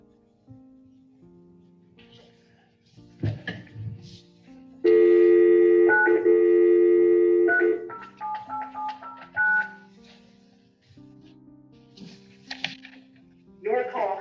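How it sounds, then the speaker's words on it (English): A telephone number is dialed in a series of short touch-tone beeps of varying pitch, fairly loud and close, followed by ringing phone tones, with quiet talk heard before and after. "Let's see if we can get him on the phone."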